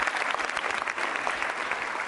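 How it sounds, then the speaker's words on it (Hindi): Audience at a university Holi quiz show clapping loudly for contestant Sangeeta, a steady, dense burst of many hands that stays strong and even throughout, with no voices over it. "संगीता जी के लिए जोरदार तालियां बजाइए, जोरदार तालियां जोरों से बजनी चाहिए"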